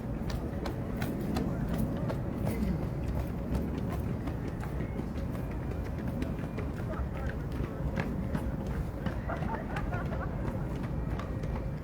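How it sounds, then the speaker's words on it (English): Many runners' footsteps pass continuously along a street during a photo walk by the National Covid Memorial Wall, a steady dense patter of feet with crowd murmur mixed in throughout. "All those footsteps you hear are runners."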